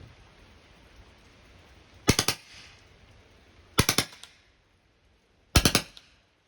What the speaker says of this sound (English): let's kick this thing up to 600 rounds per minute. And let's try some 3-round bursts.